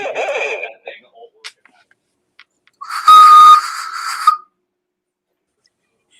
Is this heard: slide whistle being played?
yes